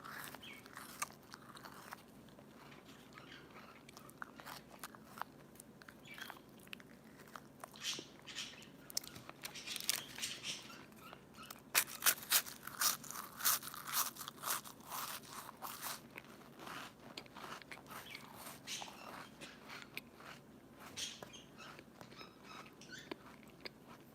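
Someone crunches and chews crackers up close for eating ASMR, with steady soft bites that grow denser and crisper in the middle. No talking is heard.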